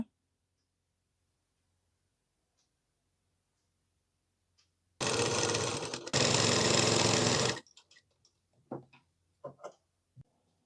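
A sewing machine stitches the folded armhole edge of a kitchen apron in one steady, loud, close run of about two and a half seconds, with a brief hitch in the middle. Quiet fabric handling and clicks follow.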